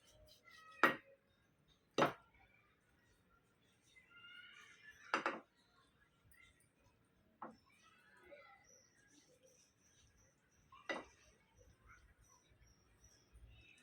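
A knife chops through raw chicken being shaped into Schezwan chicken lollipops, five sparse sharp cuts spaced a few seconds apart against a quiet kitchen background.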